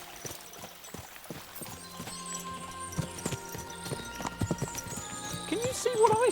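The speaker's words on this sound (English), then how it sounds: "As soon as we cross the stream, we'll give the horses a gallop again." Horses' hooves clop and pound in a rhythmic gallop in Kingdom Come: Deliverance 2, growing louder toward the end, while voices talk over the hoofbeats.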